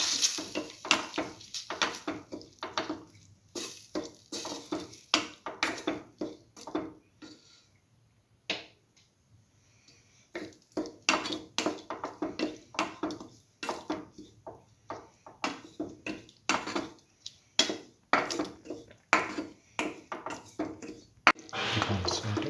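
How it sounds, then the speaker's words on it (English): Potato coconut stir fry sautéed in a pan: repeated scraping and clinking of a spoon against the pan in quick irregular bursts, with a short quiet pause in the middle and a voice talking now and then. "Keep on sauteing."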